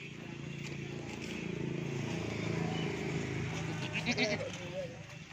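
Rajanpuri goats for sale in a livestock pen bleat intermittently amid a steady background hum, with a few sharper cries near the end and people talking nearby.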